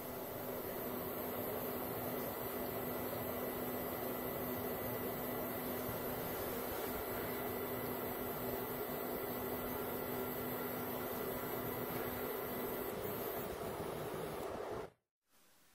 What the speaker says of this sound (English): Note here that Z-axis motors will make some noise due to the load on them.